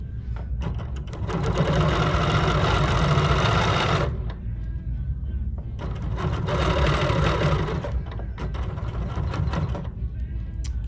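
A BERNINA Q 16 longarm quilting machine stitches in two long runs of fast, steady, rattling mechanical hum, close and loud. A short pause separates the runs, and a lower idle noise continues between them.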